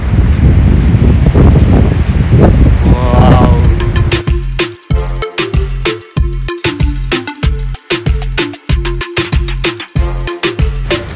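Strong cold wind roars against the microphone on a mountain trek in Manang toward Tilicho Lake, loud and gusty for about four seconds before rhythmic music takes over.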